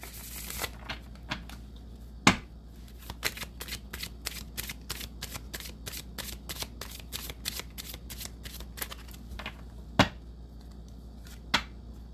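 Oracle cards are shuffled in quick repeated riffles, a rapid crisp flutter with a few sharper snaps, close and fairly quiet with no talking.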